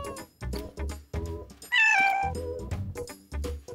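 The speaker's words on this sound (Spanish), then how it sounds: "Es un gato maullando." A cat meows several times in short, clear, close calls, with one long, rising, strongly tonal meow in the middle standing out loudest.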